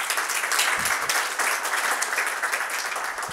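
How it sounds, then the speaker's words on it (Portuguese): Audience applause at a talk on agile, a steady wash of many hands clapping filling the room for several seconds at an even, close level. "agora também uma salva de palmas para vocês todos"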